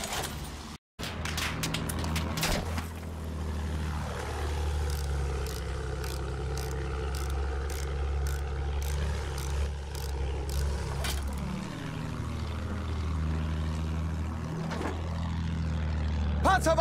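Propeller plane in Battlefield 1 drones overhead, swelling and fading as it passes twice amid battlefield noise and distant shots, with voices calling out at times.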